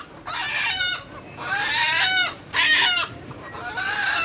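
Chickens at a poultry market cluck and squawk in repeated loud bursts close by, several calls in a row with short pauses between them.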